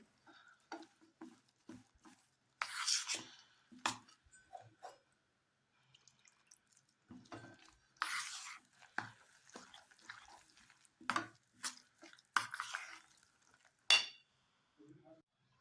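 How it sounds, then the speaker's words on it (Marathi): Rava dhokla batter being mixed with added water in a bowl, giving intermittent stirring scrapes and wet slaps in short bursts, fairly close and quiet, with no talking. "थोडं पाणी घालून चांगलं असं बॅटर तयार करायचं आहे ढोकळ्यासाठी."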